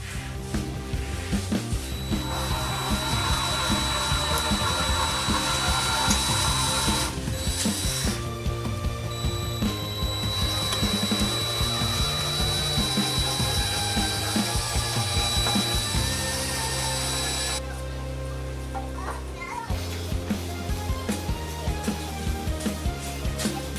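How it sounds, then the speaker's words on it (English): A power drill bores out the rivets holding an oil pan gasket on a G8 L76 V8 engine, giving a long whirring, grinding run with pitch shifts and brief pauses as the bit bites, steady and close. "There are two rivets that have to be drilled out to remove the gasket."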